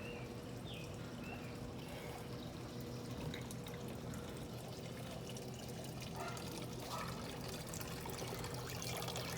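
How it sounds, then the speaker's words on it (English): A garden water fountain trickles steadily beside caladiums and a basket of impatiens, a continuous soft splashing flow with faint outdoor background, no voices. "Got this water fountain"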